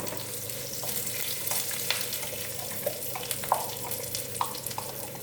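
Curry leaves crackle and sizzle in hot oil in a steady hiss, with sharper pops now and then as a dish of healthy rice is cooked. No voices are present.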